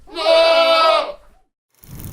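A mountain goat lets out one long, loud, wavering bleat lasting about a second, followed by a brief silence and then a burst of rough noise.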